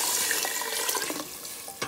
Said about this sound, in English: And then we're gonna add some water. I have some warm water.